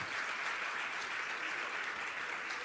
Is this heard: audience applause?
yes